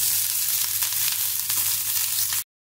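Chopped ginger, onion and chilli fry in hot mustard oil with a loud, steady sizzle, close and unbroken, before cutting off abruptly.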